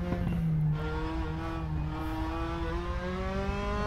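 A DTM race car in the RaceRoom racing game cruises a lap of the Assen circuit, its engine droning steadily with smoothly rising and falling revs, close and continuous with no talk.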